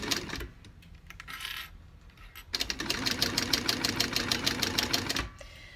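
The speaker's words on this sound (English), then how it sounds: "I'm taking the clips off just as I'm sewing the two pieces together, the fabric and the vinyl." A sewing machine stitches fabric to a vinyl strap in two close, rapid bursts of rhythmic mechanical whirring and needle clatter. The second run is longer and louder, and a soft pause falls between the runs.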